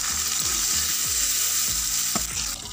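Onion, bay leaf and chopped tomato sizzle loudly in hot oil for Bengali mutton kosha, with a constant close frying hiss and regular scraping stirs, and no talking.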